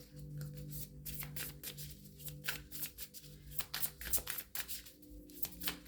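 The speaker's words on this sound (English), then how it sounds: "I'm going to do one more shuffle." Tarot cards are shuffled repeatedly, with quick riffling bursts and soft slaps in an uneven rhythm, close up, over a faint steady hum.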